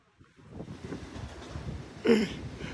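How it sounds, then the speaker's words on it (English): Strong wind off the Pacific coast in Mexico buffets the microphone in a steady broadband roar, with a louder gust surging near the end and faint voices underneath. "Very windy."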